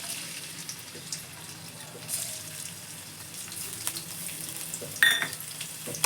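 Ginger and garlic fry in hot oil for egg fried rice, a faint, steady sizzle with light clinks and stirring nearby and no talking.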